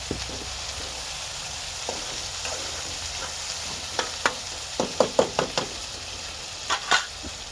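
Tomatoes frying in a hot pan with a low continuous sizzle, broken by a run of sharp spoon-on-pan knocks and scrapes toward the end, close and without talk.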